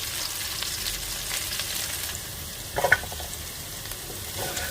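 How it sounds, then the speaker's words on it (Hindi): Okra (bhindi) frying in a pan, a continuous dense sizzle close by with a brief clatter of stirring midway, no voices. "तकरीबन हम 5 मिनट तक भिंडी को फ्राई करेंगे।"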